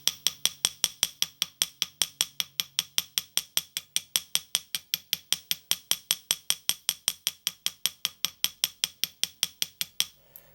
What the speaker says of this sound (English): I think use this guy here, this little round kind of ball peen